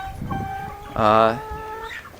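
Chickens on a regenerative farm, kept in a chicken pen, give a loud nearby cluck with faint soft clucks and murmurs around it.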